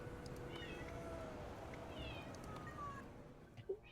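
A house cat meows several times, faint and drawn-out, over a steady background hum, with a small thump near the end.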